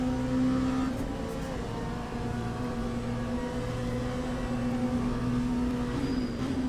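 An LMP2 race car engine at Monza in the video game Le Mans Ultimate drones steadily with sustained harmonic tones and shifting pitch, loud and continuous, with no talk.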